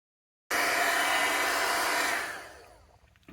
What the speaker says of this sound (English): I'm going to do just like this one here, heat set it